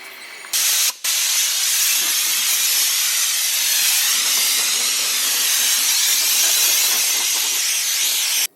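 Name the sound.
spray paint can spraying interior parts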